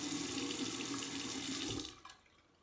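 Water runs steadily from a bathroom faucet with the hot supply under the sink turned back on, a close, even splashing rush that cuts off abruptly near the end, leaving faint drips and quiet.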